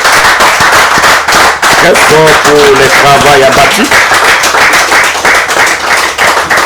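Loud, dense applause and cheering from an audience at a journalism award ceremony fills the whole stretch, with a voice speaking over the clapping partway through.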